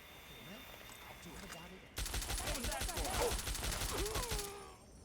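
Fallout 3 gunshots in The Pitt add-on: after a quieter stretch, a sustained rapid burst of automatic fire erupts loud and close for about two and a half seconds, with a voice talking over it, then stops abruptly.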